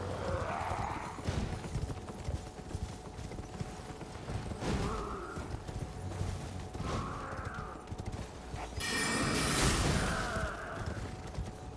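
Hoofbeats clip-clop from a horse in the video game Elden Ring, with short neighs and whinnies rising in bursts over a steady background of game ambience and combat noise.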